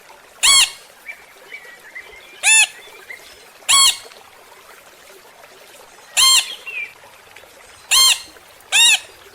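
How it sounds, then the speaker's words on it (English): A parrot lets out six loud, harsh squawks spaced a second or two apart, each a sharp, brassy burst standing alone against near silence, with faint chatter-like calls in between. "Parrot."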